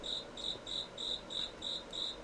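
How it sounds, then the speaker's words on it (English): Crickets chirp in a video game, giving a steady run of evenly spaced high chirps, about three per second, clear and alone against a quiet background. "So yeah, crickets are dumb."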